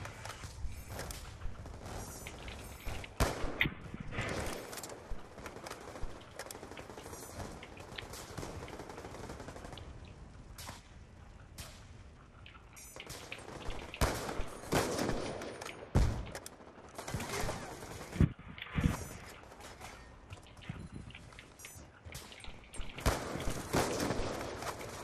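Repeated bursts of gunfire and rapid automatic weapon fire in a video game shooter private match, fairly loud and continuous with intermittent pauses.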